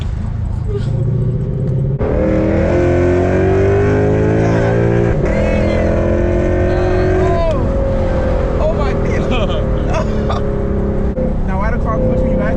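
A modified Lexus RC F revs hard through rising gears in a street race against a Dodge Hellcat, a loud continuous engine roar with sharp shift breaks, heard from inside the cabin with occasional talk.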